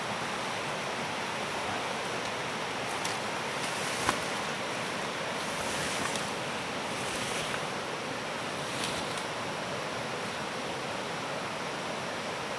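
A river flows steadily nearby, its broad continuous rushing wash of water holding constant throughout with no voices over it.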